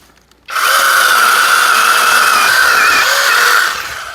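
A Narion chainsaw bucks a tree trunk into pieces, its engine starting loud and steady after a brief quiet and holding a high buzzing whine close by for about three seconds.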